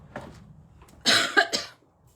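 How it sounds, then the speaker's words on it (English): A person coughs two or three times in a short, sharp burst at close range, after a faint breathy sound, during a live milk paint session on salvaged wood. "Got a little cough there."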